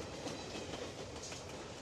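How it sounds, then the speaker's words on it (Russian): A cartoon freight train hauling wagons rolls past with a continuous rumbling clatter of wheels on rails, loud and close throughout, with no voices. "Этот поезд везет грузовые вагоны."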